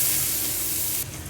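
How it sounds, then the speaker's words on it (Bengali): Rui fish pieces frying in hot oil in a home kitchen, a close, bright, steady sizzle that drops sharply just before the end. "তেলাপিয়া মাছ খায় না, এর জন্য মাছগুলো ভাজা নিতেছি।"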